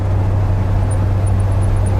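An old Ford ramp truck with a 460 V8 and ZF5 manual gearbox cruises on the road, its low engine drone and road roar holding steady and loud, with no talking.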